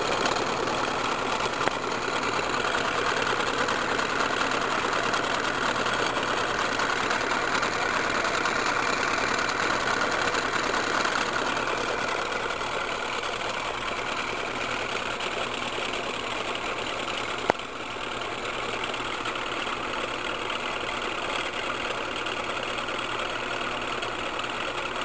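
A three-phase electric motor spins at full speed, a steady low hum and whir that holds unchanged throughout, with no voices.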